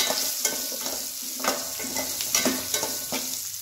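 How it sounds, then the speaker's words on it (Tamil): Whole small shallots frying in hot oil for hotel-style sambar, a steady close sizzle broken by recurring scraping stirs of a spoon in the pan, with no voices. "இப்போ இது பொரிஞ்சு வந்துட்டு இப்போ சின்ன வெங்காயம் போட்டுக்கலாம்"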